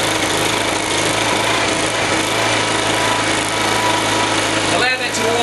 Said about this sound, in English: Allow that to warm up a little bit and the generator is ready for operation.